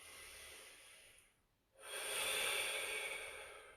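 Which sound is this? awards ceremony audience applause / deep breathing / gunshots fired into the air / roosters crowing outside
deep breathing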